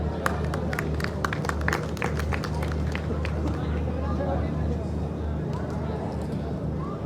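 Scattered claps ring out in a seminar hall at a Sindh livestock expo, sharp and spaced at first before fading into crowd murmur and a low electrical hum.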